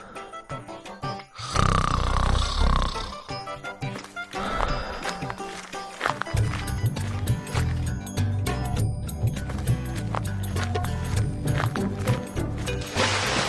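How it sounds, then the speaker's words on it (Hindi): A man in a Hindi cartoon snores loudly while asleep, with repeated rhythmic rasping breaths over a busy background of cartoon sound effects. "जगन खर्राटे मारकर सो रहा होता है"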